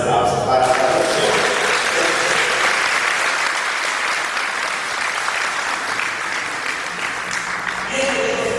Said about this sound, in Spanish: Fuertes aplausos para la parroquia.